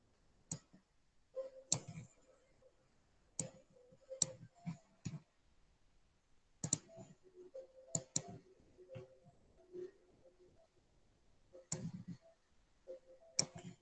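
Mouse buttons clicking while dragging with the pen tool in Figma, sharp close clicks coming singly and in quick pairs at an irregular rhythm, with no talk.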